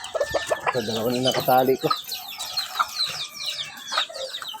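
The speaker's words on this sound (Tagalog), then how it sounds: "May mga sisiw." Chickens and chicks cluck and chirp at close range while being fed on a farm, with scattered bird calls and a person talking over them.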